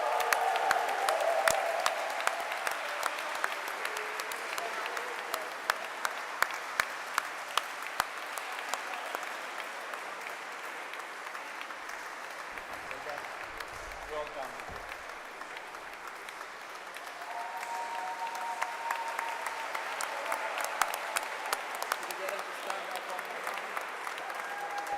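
Sustained applause from a seated audience at a graduation ceremony for MTnG graduates, dense steady clapping running the full length with faint crowd murmur and a brief swell near the end.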